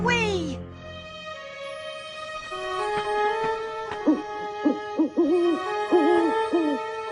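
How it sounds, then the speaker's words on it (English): An owl hoots in a dramatized period setting around the Benedict Arnold story, with a drawn-out call early and a run of clear, repeated hoots close by later. "Just an owl."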